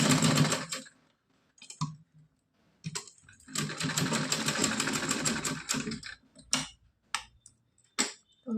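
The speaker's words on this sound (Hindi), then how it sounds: "यहाँ पे हम सिलाई डबल कर देंगे।" A sewing machine runs a double line of stitching on a small cotton night dress for a Laddu Gopal idol, whirring in two long close bursts separated by pauses and a few sharp clicks.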